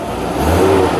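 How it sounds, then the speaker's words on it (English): A used car's engine at a dealer auto auction runs and revs briefly, a close, steady mid-pitched motor drone that rises slightly in a quick rev. "It's gonna fire right up."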